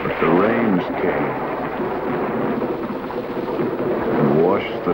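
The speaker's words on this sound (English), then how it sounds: "But the rains came" Heavy, steady rain pours down with low, rolling thunder throughout, and brief voices surface near the start and end.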